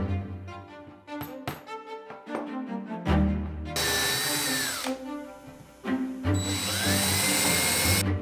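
Power drill driving screws to fasten metal pieces onto a wooden tool cabinet: a few short clicking bursts, then two long, loud whirring runs with pitch sweeps, close up and with no talk.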